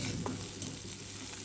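Onion, dried chili and garlic frying lightly in hot oil, a soft steady sizzle with a few stirring scrapes, fairly quiet and close, no talking.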